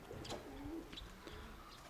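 Soft pigeon cooing close by, a few low throaty calls over a faint steady background hum.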